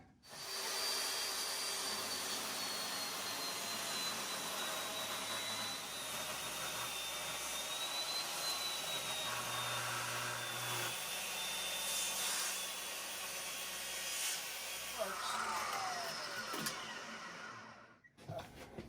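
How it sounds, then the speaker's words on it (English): A metal-and-wood saw blade cuts a 1-inch section off heart pine with a loud, steady whining rasp close by. It runs for about seventeen seconds without pause and stops abruptly at the end, with no speech. "So I've got a metal and wood saw blade here. It just barely cuts through here."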